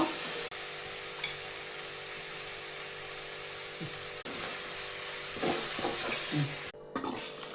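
Chili powder and spices sizzle in a hot pan of oil for a tempering, a steady close hiss broken by brief stirring scrapes near the end.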